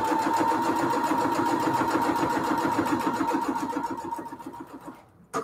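A sewing machine stitches a cathedral window quilt pillowcase, running in a fast, even rhythmic patter alone, slowing and stopping near the end.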